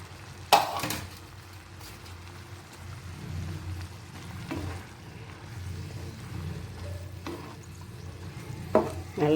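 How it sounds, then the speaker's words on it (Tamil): Bread biryani being stirred in a pan, with intermittent scraping and clinks of a spoon against metal over a low simmering sizzle. "நல்லா கலந்து விட்டுக்கலாம்."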